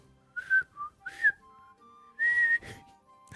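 A person whistles while breathing in rather than out, producing three short, bright tonal bursts with quiet gaps and faint breathy noise between them, close and alone.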